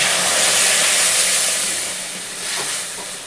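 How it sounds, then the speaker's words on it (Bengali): Lentils poured into hot oil with fried spices for Bengali dal give a loud, steady steamy hiss that eases slightly toward the end. "এবার ডালটা আমি এতে ঢেলে দিলাম"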